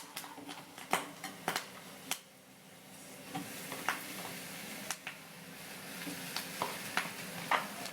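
Raw mango pieces frying with asafoetida in a pan, a soft steady sizzle with scattered sharp crackles and pops, close and fairly quiet, no talking.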